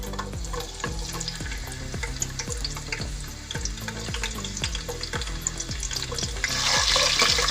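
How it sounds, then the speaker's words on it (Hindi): Onions going into hot ghee for vegetable pulao, a loud frying sizzle with rhythmic regular stirring knocks against the pot, growing brighter toward the end. "तो सबसे पहले हम इसमें प्याज ऐड कर देंगे।"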